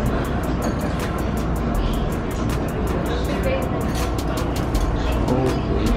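Idle of a 2018 Honda Civic Type-R engine fitted with a Greddy SP exhaust, a steady, continuous low rumble with periodic ticking, heard up close and alone.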